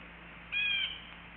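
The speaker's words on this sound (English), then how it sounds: "Little bird just flew over and said" A small bird gives a single short, thin call as it flies overhead, about half a second long and fairly close, against a quiet outdoor background.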